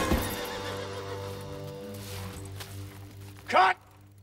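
A saddled horse whinnies once on a film set, short and clear near the end, after a stretch of low steady background hum.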